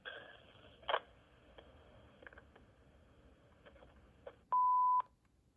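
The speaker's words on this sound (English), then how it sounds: "Leave a message after the beep." Quiet room noise with a few faint clicks, then a single clear electronic beep lasting about half a second, like an answering machine tone.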